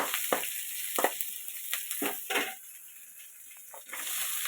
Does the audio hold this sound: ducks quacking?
no